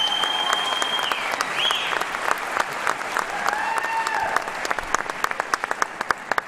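Audience applause for four-time state champions at a senior night ceremony, dense steady clapping throughout with sharper individual claps near the end and a few whistles and cheers rising above it.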